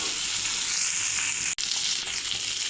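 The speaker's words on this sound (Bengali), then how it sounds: "তেল গরম হয়ে গেছে, হলুদ লবণ মাখা মাছ দিয়ে দেবো।" Hilsa fish coated in turmeric and salt fries in hot oil, a loud continuous sizzle with a constant hiss and crackle close by, broken once by a brief dropout midway before resuming unchanged.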